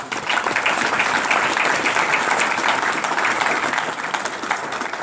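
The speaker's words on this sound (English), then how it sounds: "give yourselves a round of applause" Bank staff applaud together at a nonprofit award announcement, a steady, dense round of clapping that stays loud and even for about five seconds with no talk over it.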